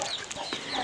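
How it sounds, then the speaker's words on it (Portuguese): Broody hens on a small farm clucking in a few short, close calls, with soft outdoor background noise and no talking. "tinha duas galinhas chocas aqui no sítio"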